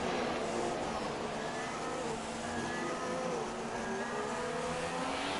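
Formula 1 race cars roaring around the Spa circuit in the Belgian Grand Prix video game, a dense continuous engine drone with shifting whines and no pauses.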